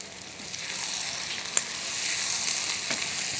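Onions frying for a chicken khara masala curry, a close, even, hissing sizzle that holds steady with a couple of soft ticks from the pan.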